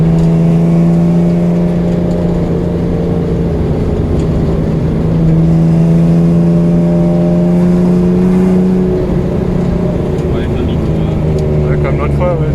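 Ford Sierra XR4i V6 rally car engine droning loudly from inside the cabin while driving, holding steady revs with a slight rise and shift near the end, constant and close.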